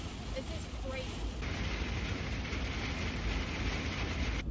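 Heavy rain pours down outside as a dense, steady hiss that fills the whole stretch without letup, loud and continuous, with a faint voice briefly under it at the start.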